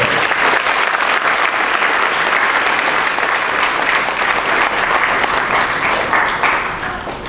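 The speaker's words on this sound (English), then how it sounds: "So one more round of applause for Mr. Stevens." An audience at a school concert applauds loudly and steadily, a dense wash of many hands clapping close by, fading slightly at the end.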